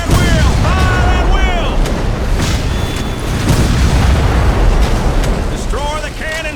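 Loud booming cannon fire and explosions roll through a Civil War video game battle, with heavy blasts layered continuously under shouted commands and voices.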